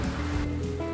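Rain falls steadily near a dam in Valparai, Tamil Nadu, a continuous close hiss of drops on surfaces, loud and unbroken through the brief moment.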